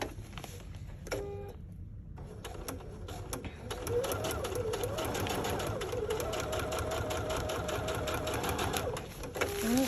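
A sewing machine stitches fabric for a foldable carry-all duffle bag, starting after a brief pause and then running steadily and close at a fast, even rhythm for most of the stretch.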